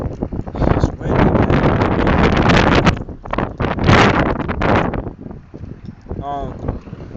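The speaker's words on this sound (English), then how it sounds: "I wish this wind was going to die down." Strong wind buffets an outdoor microphone in heavy, continuous gusts, roaring loudly throughout with brief dips between bursts.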